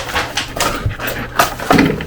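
Puppy whimpering and panting close by, with short breathy pants and soft whines in quick succession, loud and near with no speech.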